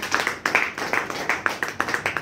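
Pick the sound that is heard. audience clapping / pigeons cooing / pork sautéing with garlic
audience clapping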